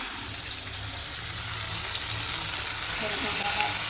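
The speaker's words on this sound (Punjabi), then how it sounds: "ਟਮਾਟਰ ਤੇ ਮੈਂਗੋ ਨੂੰ ਹੁਣ ਦੂਜੇ ਪਾਸੇ ਥੋੜਾ ਥੋੜਾ ਸੇਕ ਲਵਾਉਣੇ ਆ" Tomato and raw mango roast in a hot pan for a raw mango chutney, turned over so both sides soften. A steady, close sizzle continues without a break, with no voices.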